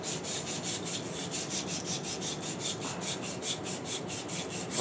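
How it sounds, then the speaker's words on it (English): Steady rhythmic rasping of a wire brush scrubbing corrosion and oxidation off copper pipe down to bare metal, close and continuous with regular back-and-forth strokes. "polishing off the corrosion and oxidation on the outside of your pipe, just like that"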